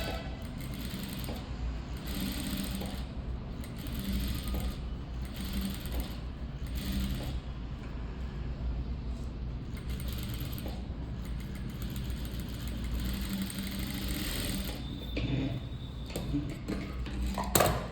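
A sewing machine runs steadily while stitching a boat neck blouse, a close, continuous mechanical whir with a faint rhythmic ticking that carries through the whole stretch, with no voices.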